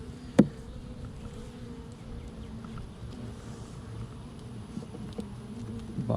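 Honeybees hum steadily in an open hive packed with about eight frames of bees during an inspection, a low continuous drone throughout with one brief knock near the start.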